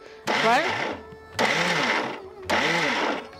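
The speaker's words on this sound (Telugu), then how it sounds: "అది మిక్సీ వాడే పద్ధతి ఇదనమాట" A kitchen mixer grinder (mixie) grinding chukkakura pachadi runs in three short pulses, each a loud whirring burst that spins up and winds down, with brief pauses between.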